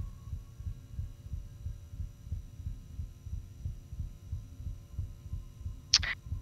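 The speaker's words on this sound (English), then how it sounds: "Heartbeat's getting..." A steady heartbeat pounds through a tense moment in the horror video game Inside the Backrooms: low, rhythmic thumps over a constant hum, with a brief sharp noise flaring near the end.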